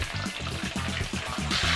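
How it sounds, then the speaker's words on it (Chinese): Crab shells deep-frying in hot oil, a steady bubbling sizzle with repeated low popping pulses, close and continuous throughout. "蟹壳呢，我们也炸一下"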